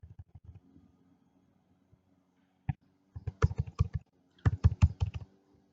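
Typing on a computer keyboard while entering a contact name: a few scattered taps, a pause, then two quick bursts of close, crisp keystrokes.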